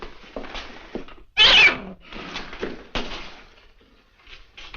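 A house cat with kittens in a 1940s film scene gives one loud, close meow amid quieter shuffling room sounds and faint murmurs.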